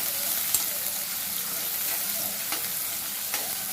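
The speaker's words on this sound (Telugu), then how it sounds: "ఉల్లిపాయలు కొంచెం వేగాలండి." Chopped onions fry in a pan with a constant, even sizzle, marked by a few faint scraping ticks from stirring; the sound is moderate and continuous, with no talk.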